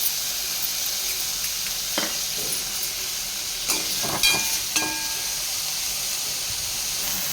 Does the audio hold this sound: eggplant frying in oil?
yes